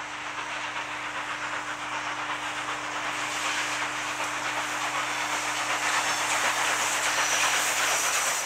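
Steam locomotive 18201 with a bar frame, its front bogie running over rail joints into a curve: steady hissing rumble with a faint rhythmic clatter and two sustained low tones, fairly loud and continuous, no voices.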